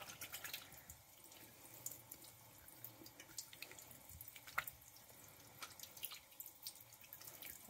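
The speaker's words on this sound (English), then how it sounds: "Rinsing with cold water right now." Thin stream of cold water from a sink tap running and spattering while shaving soap is rinsed off, quiet and close with irregular drips and splashes.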